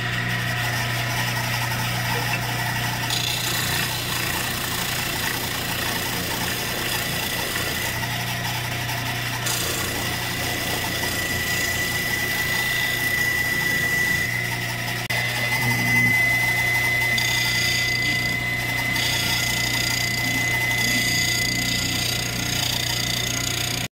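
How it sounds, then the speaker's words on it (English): A power sander grinds a roughly flattened horn being shaped into a powder horn, a loud, continuous machine drone with shifting pitch as the work is pressed against it. "I'm gonna hit it on the sander."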